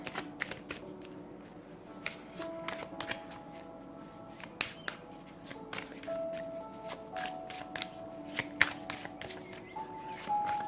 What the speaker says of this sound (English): This is how I often shuffle the deck.